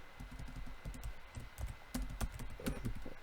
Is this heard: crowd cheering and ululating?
no